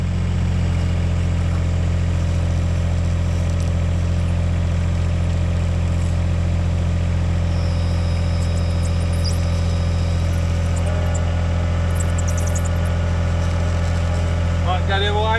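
A Takeuchi TB016 mini excavator's engine runs at a steady, loud, low drone close by, with a faint higher whine rising near the end and occasional voices underneath.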